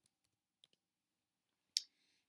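A handful of small, sharp computer mouse clicks spaced irregularly across a quiet room, followed by a slightly louder click with a short trailing rattle, all faint and close.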